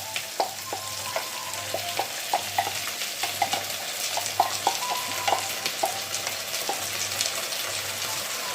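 Blended pepper and onion sizzle in a hot pan while a utensil scrapes and taps repeatedly in a steady stirring rhythm, with a constant frying hiss underneath.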